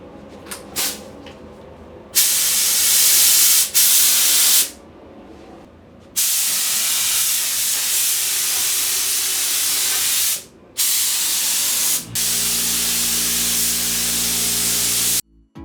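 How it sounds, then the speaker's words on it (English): A spray gun lays sealer onto a Hayabusa motorcycle's panels in long bursts of bright, steady hissing, stopping and restarting several times, with brief clicks between passes. "I'm just gonna start spraying."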